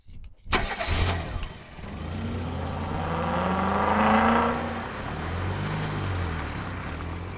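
A car engine turns over and settles into a steady mid-pitched run, rising as the car pulls away, with a soft whir throughout and no talk.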